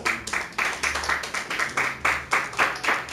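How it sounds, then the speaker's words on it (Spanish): Church congregation clapping in a steady rhythmic beat, loud and close, many hands striking together in regular bursts about every third of a second, with no voices over it. "dele un aplauso a Jesucristo."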